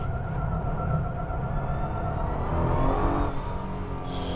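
Exhaust note of a Nissan GT-R Egoist under acceleration: a continuous close engine drone that swells slightly as the car pulls, with no talk over it.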